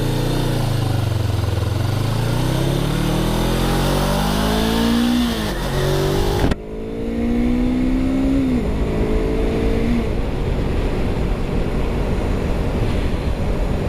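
A Suzuki GS500 motorcycle engine, prone to stalling, revs and rises in pitch, cuts out abruptly, then fires up again and revs in several climbing pulls, loud and close.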